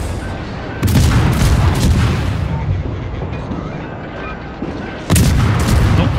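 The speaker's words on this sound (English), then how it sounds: "Watch out, incoming shots." Incoming shells fire in the World of Warships naval combat game, with heavy booming blasts that roll into a long rumbling wash. A fresh loud salvo lands near the end.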